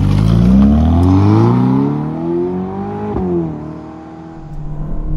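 A Ferrari Portofino M GT sports car engine accelerating hard, a loud, close roar that rises steadily in pitch through the gears with a brief shift dip partway, then eases off.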